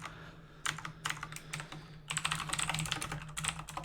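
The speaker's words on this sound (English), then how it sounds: "Enjoy my mechanical keyboard, by the way." Loud clacky mechanical computer keyboard typing, a pause, then rapid continuous bursts of keystrokes close to the microphone with no talking.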